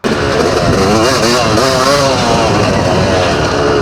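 A vintage motocross motorcycle engine fires up abruptly and keeps running loud and rough, its pitch wavering as the throttle is blipped, close by.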